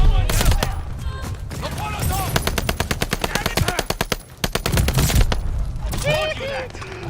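Loud automatic gunfire from the video game Call of Duty MW2 crackles in rapid bursts, with a long rattling stream in the middle and scattered shots around it, while a voice talks over parts of it.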